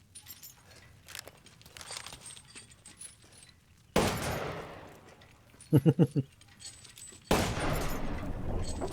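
Magnum revolver shots in the video game Resident Evil 8, two heavy booming blasts separated by a quick burst of clinking, metallic pings, under quiet background game ambience.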